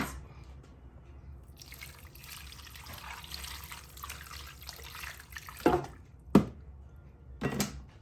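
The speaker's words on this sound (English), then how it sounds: "we add water to it." Water poured into a pot of peanut and egusi soup with fish, heard as a soft trickle and a few louder splashes and drips near the end.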